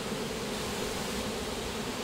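A dense swarm of bees buzzes continuously around a bee tree, a steady broadband drone close by with no voices over it.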